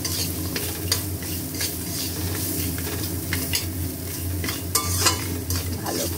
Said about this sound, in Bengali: ভালো করে মশলাটাকে কষতে হবে।